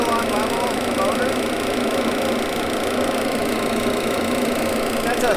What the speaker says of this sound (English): That's a 1/3 of a horsepower General Electric motor.